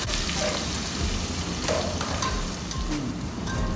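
Onions frying in hot oil in a pan until golden, for a sardine curry, giving a steady, dense sizzle that runs unbroken throughout, close and moderately loud with no voices.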